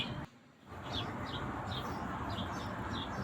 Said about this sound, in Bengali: ছাদে এত পাখিদের ডাকাডাকি